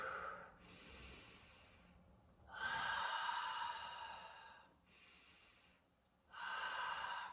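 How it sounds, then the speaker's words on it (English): Slow, deep meditative breathing, with long rushing inhales and exhales alternating in a steady rhythm, close and alone with no talk. "you want to breathe deep when you're meditating"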